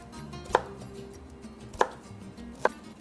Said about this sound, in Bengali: এটাকে কুচি কুচি করে কাটতে হবে।